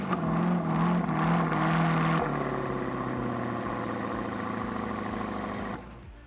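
A Corvette Grand Sport LS6 V8 idles with a steady, close low rumble, then revs up and holds a higher churning drone before dropping away near the end.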